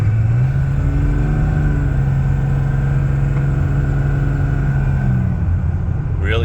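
A 1999 Cummins diesel dually pickup fitted with an Edge tuner runs with a steady, close, loud low engine drone that holds evenly before easing off near the end.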